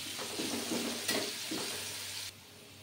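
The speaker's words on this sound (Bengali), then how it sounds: "ভালো করে সিদ্ধ না হওয়া পর্যন্ত এটাকে একটু চাপা দিয়ে ভাজতে হবে আলুটাকে।" Potatoes frying under a lid in a covered pan for a flattened-rice pulao, a steady muffled sizzle with a few stirring bursts that drops off sharply just before the end.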